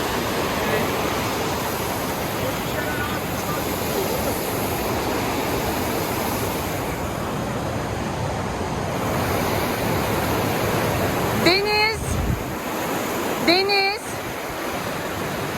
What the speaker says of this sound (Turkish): Gördün mü suyu anneciğim bak. Çok akıyor değil mi?